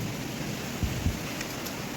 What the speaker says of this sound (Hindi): तिरछी बारिश आ रही है ना